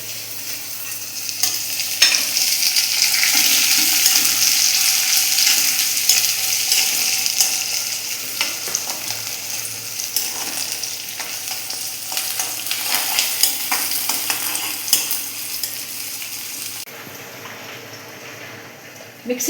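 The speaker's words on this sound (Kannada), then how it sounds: "ಕ್ಯಾಪ್ಸಿಕಮ್ ಇದರಲ್ಲೇ ಫ್ರೈ ಮಾಡ್ತಾ ಇದ್ದೇನೆ" Capsicum frying in a pan for bisi bele bath, with a loud continuous sizzle and repeated stirring scrapes close by, fading toward the end.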